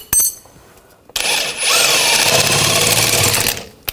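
A power tool whirs steadily for a couple of seconds after a short sharp burst, spinning off a 21mm rear suspension nut on a 2000-2006 BMW X5, loud and close with no talk.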